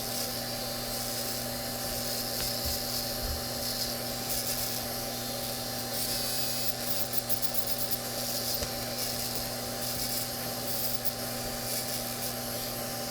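A steady high-pitched electric whir runs continuously, an electric nail file drill buzzing against sculpted gel on a nail, with faint grinding variations and no talking.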